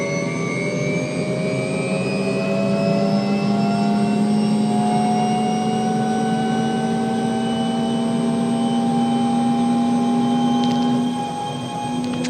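Robinson R66 helicopter turbine engine spooling up after start, a loud steady whine with rising tones and a deep drone that hold continuously at close range.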